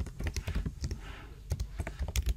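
Rapid typing on a computer keyboard, a close, dense run of crisp key clicks with brief pauses, heard alone without speech.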